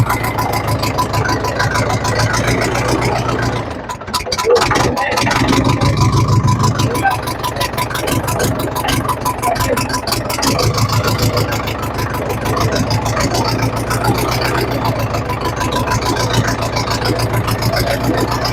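An Isuzu 4BC2 diesel engine idles nearby with a rapid, steady knocking chug, slightly misfiring, briefly dipping before resuming its even running rhythm.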